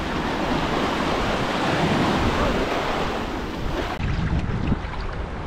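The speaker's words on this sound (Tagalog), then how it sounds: "Huwag na dyan kasi malakas yung alon." Strong ocean surf breaking at a beach, a loud continuous roar of waves with heavy wind buffeting the microphone, steady throughout with no clear talk.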